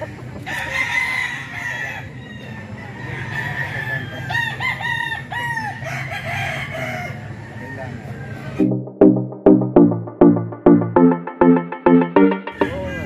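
A Sweater Kelso bullstag rooster crows repeatedly amid noisy background chatter, followed by a close run of sharp, rhythmic clucking pulses.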